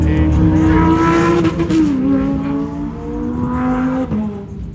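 Cars leaving a car show rev hard and accelerate away, engines roaring loudly close by with rising and falling pitch across several seconds.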